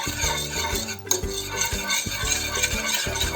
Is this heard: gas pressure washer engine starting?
no